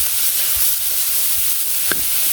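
Leafy greens dropped into a frying pan where fish has just been fried in oil, giving a steady, close sizzle with a few stirring scrapes and one brief sharper clack, no voices.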